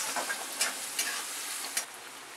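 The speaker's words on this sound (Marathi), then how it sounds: "आता हा कांदा थोडा भाजून घ्यायचा" Chopped onion with turmeric sizzles in a pan, giving a steady, close hiss of frying with a few soft stirring scrapes and pops, and no voices.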